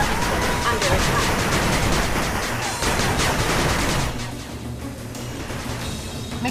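Machine gun fire attacking a turret in the video game 8-Bit Armies: dense, rapid crackling bursts for about four seconds, then quieter battle noise and lower game sounds underneath.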